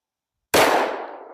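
A single sharp 10mm pistol shot firing G9 Defense 95gr external hollow point ammunition, loud and close, starting abruptly from silence and ringing out in a decaying tail.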